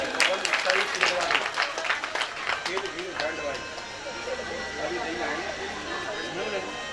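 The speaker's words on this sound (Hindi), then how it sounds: "एक बार फौजी भाई साहब ने ताली बजाई।" A burst of clapping rises over lively talk at a live Bhagavat Katha gathering in Agra, then fades away as the voices carry on.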